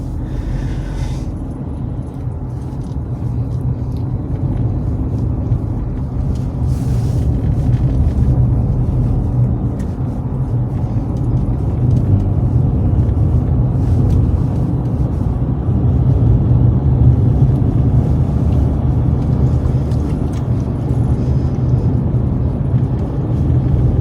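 Steady low engine and road rumble from inside a moving car carrying a dog, a continuous drone with no talking.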